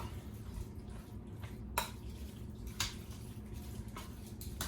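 Sloppy joe mixture seasoned with pepper and salt is stirred in a pot, soft squishing and low scraping with a couple of brief metallic clinks of a utensil against the side.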